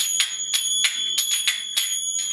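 Brass finger cymbals (zills) are struck in a rhythmic pattern of accented and quicker paired hits, each clang bright and bell-like with a lingering metallic ring, close and prominent with nothing else heard.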